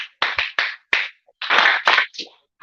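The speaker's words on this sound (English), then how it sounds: "So if I clap, you respond with two claps." Audience clapping in response at a corporate campaign event, arriving as a run of sharp, loud separate claps and short clap bursts in uneven groups, close and clear with no talk.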